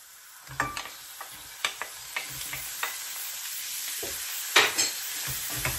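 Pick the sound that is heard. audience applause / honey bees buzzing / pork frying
pork frying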